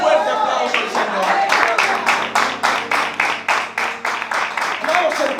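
A church congregation applauds the Lord in a steady, rhythmic run of hand claps, loud and close, with voices and music sounding underneath.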